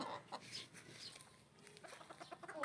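A mother hen clucks softly in a few short bursts near her chicks, fairly close, against quiet background rustling and noise.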